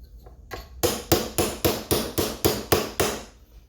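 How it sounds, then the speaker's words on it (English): A hammer taps pins out of a Bergara B14 HMR .308 Win rifle trigger assembly, about ten sharp metallic strikes in a steady rhythm, loud and close with no talk. "I'm just going to kind of tap these pins out"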